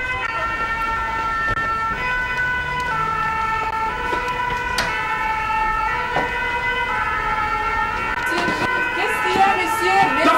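An ambulance siren wails steadily through a crowded street gathering, holding its tone for several seconds amid loud overlapping shouting voices.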